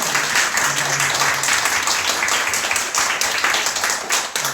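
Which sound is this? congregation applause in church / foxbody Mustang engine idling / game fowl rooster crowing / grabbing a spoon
congregation applause in church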